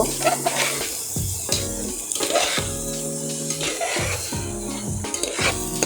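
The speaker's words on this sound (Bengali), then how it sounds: "আমি এখন পোলাও চাউলটাকে একটু ভালো করে কষিয়ে নিব।" Pulao rice fries and is stirred in a pan, giving a steady sizzle broken by repeated scraping strokes of a spoon against the metal at an uneven rhythm.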